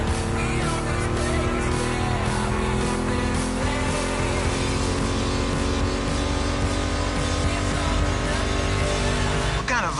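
A Ford Mustang GT muscle car engine in The Crew Motorfest, a sustained loud drone with a slowly rising pitch and layered harmonics that runs without a break.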